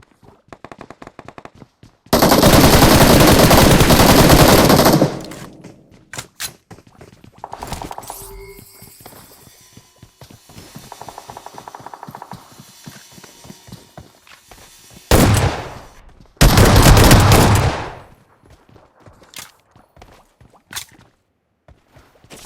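Gunfire in the battle royale game PUBG Mobile, with rapid staccato shot sequences and two long, loud sustained bursts of automatic fire, interspersed with quieter clicking and movement sounds.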